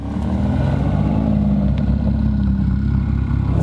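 An Aston Martin DBS Superleggera's engine revs close by, a loud, steady mechanical roar that holds through the whole moment without any talking over it.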